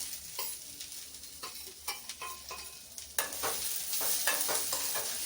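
Fried okra being stirred in a hot pan, a continuous sizzle broken by repeated scraping strokes of the spoon, close, with the frying growing louder partway through.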